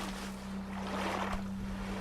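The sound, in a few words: boat paddling in water, video game Stranded Deep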